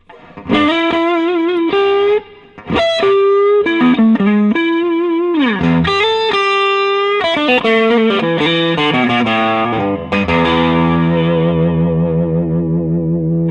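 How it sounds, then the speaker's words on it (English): Electric guitar through a Fender amp with drive distortion, played as a sustained melodic line of bent and held notes with a driven, harmonically rich tone, loud and continuous. "a lot more power amp type distortion, a little less bass"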